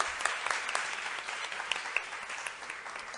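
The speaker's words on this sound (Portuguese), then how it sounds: "Palmas para a mesa." An audience at a round-table discussion applauds the panel, dense steady clapping throughout, fairly even and moderately distant, with no speech over it.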